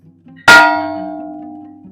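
A wish bell at Radomysl Castle is struck once, giving a single loud metallic clang that rings on and slowly fades over a quiet background.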